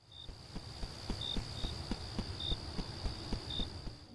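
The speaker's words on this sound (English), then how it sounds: "it's replaced with crickets and the usual night sounds" Crickets and night ambience in a Roblox game: regular short chirps repeat every second or so over a soft steady background, with faint footstep-like thumps, no voices.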